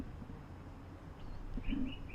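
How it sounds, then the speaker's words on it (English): A bird calls outdoors during a walk on the Stanford campus, a few short chirping notes rising over steady background ambience partway through, with no talking. "The bird does not want me to talk."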